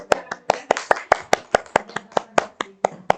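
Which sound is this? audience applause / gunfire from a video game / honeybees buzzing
audience applause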